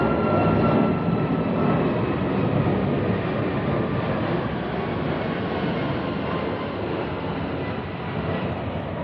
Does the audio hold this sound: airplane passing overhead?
yes